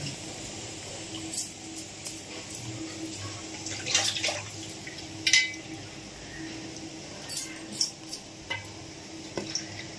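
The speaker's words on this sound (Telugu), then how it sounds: "చల్లారిన ముక్కల్ని మరొకసారి మంచినీటిలో కడిగి పెట్టుకోవాలి" Cooked mutton lung pieces are rinsed in fresh water, with soft splashes, sloshing and drips coming in small irregular bursts, close and fairly quiet, with no talk.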